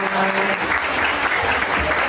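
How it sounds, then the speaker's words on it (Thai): Audience applause at a music and charity party following a scholarship presentation, a steady dense wash of clapping heard up close. Faint tonal traces of music or voice linger early on, and the clapping holds for the whole stretch. "ขอเสียงปรบมือด้วยครั"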